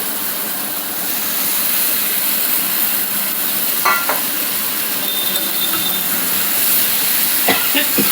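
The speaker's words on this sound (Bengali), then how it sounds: "আলু ফুলকপির সঙ্গে কষিয়ে নিচ্ছি।" Fried potato and cauliflower sizzle steadily in spiced oil in a pan, a dense hissing wash with a few faint utensil clinks as the mix is stirred.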